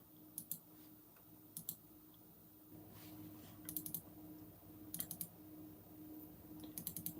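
Faint computer keyboard typing in short clusters of quick clicks, several bursts spread across the clip over a low steady hum.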